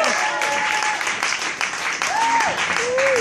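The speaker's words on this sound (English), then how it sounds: "When I say his name, you guys gotta start clapping." Applause from a stand-up comedy audience fills the clip, with cheers and whoops rising over the dense clapping.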